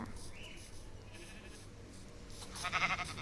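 A sheep bleats near the end, a short wavering cry over faint background noise and some indistinct voices.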